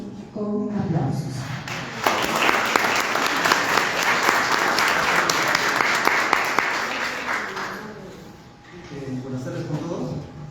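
A welcoming round of applause from an audience at a tribute event for historian Guillermo Galdos Rodriguez, greeting another historian: dense, sustained clapping that swells and then fades, with speech before and after.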